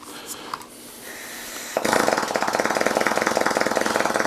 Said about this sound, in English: So I'm going to plug each one of these in, show you that they work. You can actually hear them anyways.